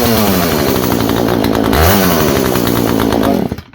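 A Poulan 18-inch 42cc chainsaw runs loud and close, its two-stroke engine snarling as it revs up and down before abruptly cutting out at the end.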